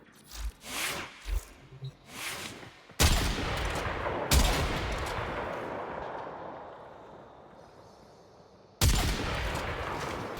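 A Kuva Quartakk fires in Warframe with a few quick snapping bursts followed by three heavy booming volleys, each leaving a long, rumbling decay.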